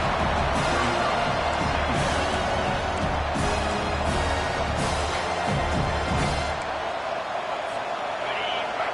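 Stadium crowd roaring at a college football game between Texas and an opponent, a loud continuous wash of cheering and noise late in the game with an announcer's voice over it, easing slightly toward the end.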